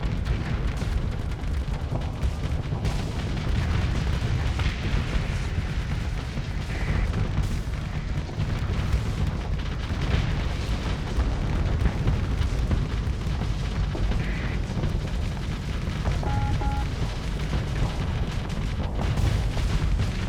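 Missiles in the space combat game Starsector burst in a dense, continuous barrage of booming explosions and thuds that overlap steadily throughout, loud and close, with no speech.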